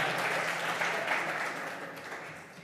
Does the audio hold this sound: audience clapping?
yes